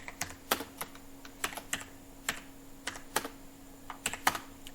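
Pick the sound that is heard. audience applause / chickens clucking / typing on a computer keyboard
typing on a computer keyboard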